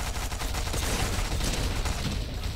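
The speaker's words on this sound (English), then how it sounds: "I was shooting the guy" Fortnite gunfire, a continuous loud rattle of rapid shots with dense, overlapping bursts that does not let up.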